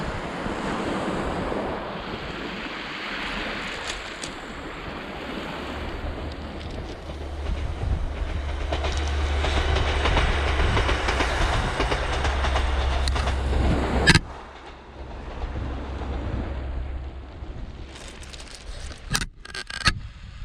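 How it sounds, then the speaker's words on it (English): A train rumbles past Nethertown beach in Cumbria at a steady roar for several seconds, deep and continuous, then fades, with a few sharp clanks near the end. "And here comes another train"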